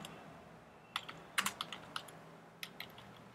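Keys tapped on a Mac computer keyboard, a sparse run of light clicks in two short bursts, close and fairly quiet with no talk.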